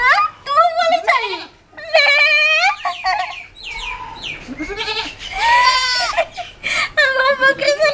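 A voice imitates a goat, bleating in drawn-out wavering cries, several in a row with short breaks, loud and close, with a voice and other voices joining in alongside.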